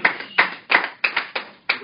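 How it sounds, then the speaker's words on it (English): A few people clapping in a small meeting room at a WordPress developer day, sparse and uneven, coming in about six short separate bursts rather than a full sustained ovation. "I'm glad you're applauding now."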